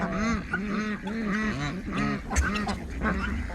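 A flock of ducks or geese quacking and honking nearby, overlapping calls in a continuous, busy stream, fairly loud and without talking.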